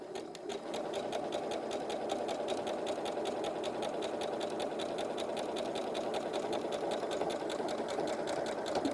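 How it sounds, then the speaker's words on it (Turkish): A domestic sewing machine runs a zigzag overcast stitch along the hem of jeans, a steady close-up whir with a fast rhythmic needle tick that keeps a constant level for about nine seconds, with no talking. "Ve bu şekilde paçanın sürfile dikişini yapmış oluyorum."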